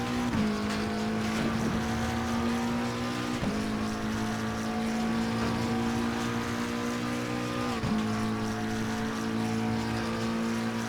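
In Assetto Corsa Competizione, a McLaren 720S EVO engine screams around Monza, its loud sustained wail dropping sharply at three gear shifts before climbing again, heard without any talking.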